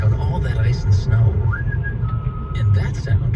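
A man whistles a tune, Beethoven's Fifth, in a Subaru radio ad, short rising and held whistled notes over a steady low rumble of a car driving on ice and snow, with a voice faintly underneath.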